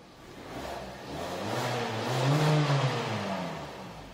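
A car engine with over 200,000 km and a rebored engine revs up in one smooth rise, climbing in pitch and loudness to a peak before easing back down, heard up close.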